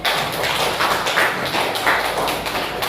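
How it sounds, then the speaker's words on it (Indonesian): Group of people clapping hands at a school event, a dense patter of many claps with loose rhythmic surges, loud and continuous. "mari kita tepuk tangan dulu untuk semua kelompok"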